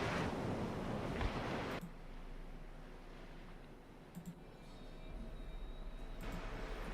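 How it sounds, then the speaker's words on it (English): Ocean waves in a quiet instrumental track, a soft continuous wash of surf and wind-like hiss, faint and low with slight swells and no talking. "Is it just like instrumental like ocean shit?"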